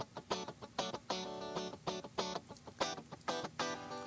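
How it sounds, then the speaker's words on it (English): A dry, funky guitar loop from Native Instruments Kontakt, made of crisp, choppy strummed chords in a tight syncopated rhythm with no reverb tail, played alone and fairly quiet. "I have a funky guitar loop from Native Instruments Contact."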